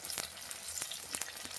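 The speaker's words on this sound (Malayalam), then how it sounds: "തക്കാളി ഇടുകയാണ്." Tomato dropped into a hot pan with onion, shallot, garlic and spices for a curry: a continuous close sizzle broken by a few sharp stirring clicks, with no talk.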